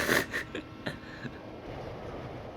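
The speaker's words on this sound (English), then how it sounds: "And the train crashes." A train crashes in the video game Professor Layton and Pandora's Box: a few loud, harsh bursts in the first second, then a steady low rumbling noise that fades slightly.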